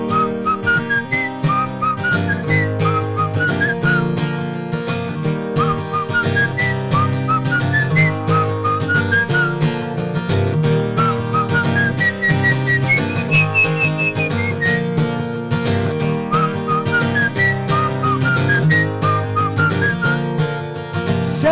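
A person whistles a melodic tune over a steady music backing, the clear pitched notes rising and falling in phrases throughout the long passage.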